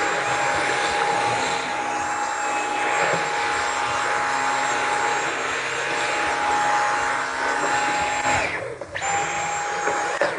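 A Dyson cordless vacuum with a motor bar cleaner head sucks up popcorn from the floor: a steady, high-pitched motor whine with a constant airflow hiss, dipping briefly near the end before resuming.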